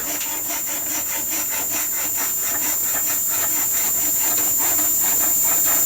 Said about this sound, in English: I'm now using the rasp.